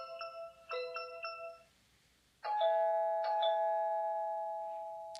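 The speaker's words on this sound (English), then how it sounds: "I'm going to sound the chime here for 5 seconds." A Tapo camera chime rings out in clear electronic ding-dong tones, first a quick repeated chiming pattern, then a short pause, then louder sustained bell notes that slowly fade.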